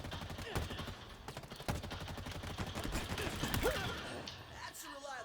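Rapid bursts of gunfire in the video game Halo Infinite, dense and continuous shots crackling loudly for several seconds and then trailing off, with a player's voice speaking over the action.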